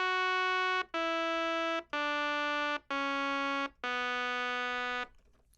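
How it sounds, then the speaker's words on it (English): A synthesizer plays a bright, buzzy sawtooth wave in five sustained notes of about a second each, separated by short gaps, loud and close with no voices. "The synthesizer is going to create a sound, and it's usually something like a sawtooth wave"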